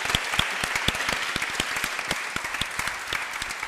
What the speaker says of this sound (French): Donc si vous le permettez, on les applaudit.